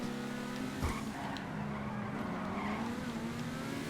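A Grotti Turismo Classic sports car in GTA Online accelerates hard, its steady engine drone running continuously with a brief tire screech near the start.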